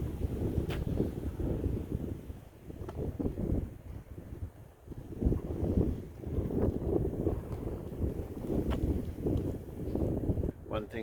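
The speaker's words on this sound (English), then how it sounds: "The wind comes down through that gorge and just whips along." Wind gusting down through a gorge and whipping along a rural backroad, producing heavy rumbling buffets against the microphone in uneven surges, with someone talking over it.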